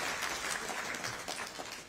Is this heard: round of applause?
yes